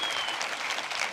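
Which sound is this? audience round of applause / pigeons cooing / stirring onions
audience round of applause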